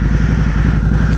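A 2006 Harley-Davidson Night Rod motorcycle engine fires and runs loud and close, its low, pulsing exhaust beat throbbing steadily with mechanical clatter over a deep rumble.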